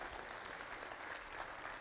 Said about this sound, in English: We just give them another round of applause for that.